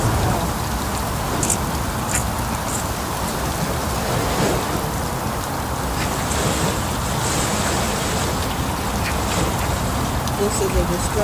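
Strong storm wind from a destructive thunderstorm under a tornado warning, with gusts near 80 miles per hour and hail, roaring as a loud, steady broadband rush that never lets up across the whole stretch.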